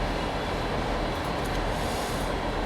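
A container train rumbles through sidings in Train Sim World 4, a steady dense rolling roar of wheels and wagons close by that holds unchanged throughout.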